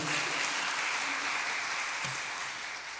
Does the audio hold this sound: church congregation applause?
yes